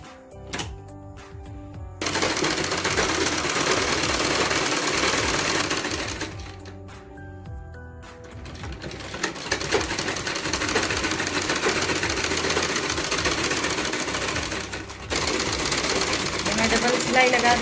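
A sewing machine stitches 3-inch buckram for a salwar waistband in long, fast, continuous runs with brief pauses between them, close and loud, its steady mechanical whir and clatter dominating throughout.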